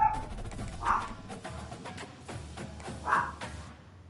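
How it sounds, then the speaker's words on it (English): Dogs barking at tractors, two short yips in the distance rising faintly over a steady rumbling background. "it's the tractors they're barking at"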